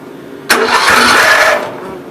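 A 1974 Gravely 408 tractor engine cranks and catches with a sudden loud burst, running steadily for about a second before fading, with no talk over it.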